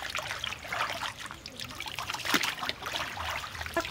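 Water runs and dribbles steadily as a large whole fish is rinsed in a home kitchen, a close continuous trickle with small splashes and clatters throughout.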